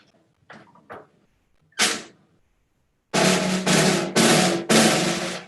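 A few faint knocks give way to four loud, rattling snare drum hits with loosely tuned snares giving a buzzy, loose wash, evenly spaced and close.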